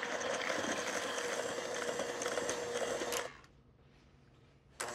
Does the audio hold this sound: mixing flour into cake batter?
yes